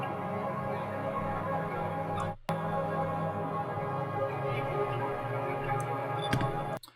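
A dry piano sample for a dark beat loops without effects, a dense, muffled wash of sustained keys with a brief dropout midway, playing on its own without voices.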